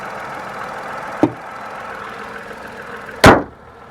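The bonnet of a new Tata Punch shuts with a loud, close metallic slam. A lighter knock comes a couple of seconds earlier, over a low background hum.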